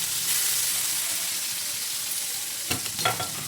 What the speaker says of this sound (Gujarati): તો તેલ મસ્ત ગરમ થઈ ગયું છે ને પછી એમાં આપણે નાખશું થોડીક હિંગ